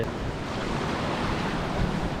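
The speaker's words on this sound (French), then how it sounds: "on a un vent qui varie entre 23 et 28 nœuds de vent" Strong wind of 23 to 28 knots roars across open sea aboard a sailboat, with the broad wash of waves and buffeting gusts against the microphone.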